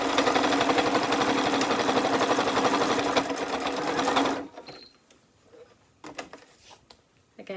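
A sewing machine stitches a row on a fabric accessory roll in a fast, steady whirring buzz for about four seconds, then stops, leaving quiet handling noises and soft fabric rustles.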